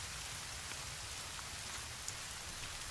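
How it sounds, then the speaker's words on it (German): Steady rain falls in the survival video game The Forest, a dense constant patter on surfaces with faint scattered drops, heard alone without talk. "Oh mein Gott, ich höre es regnen"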